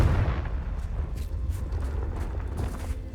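Dull blasting booms from the Confringo spell in the video game Hogwarts Legacy, a muffled low rumble with a few soft thuds at moderate distance and no talking.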